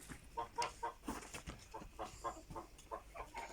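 Chickens clucking in a backyard flock: a steady stream of soft, repeated clucks and murmurs from several birds, close and fairly faint, with no talk.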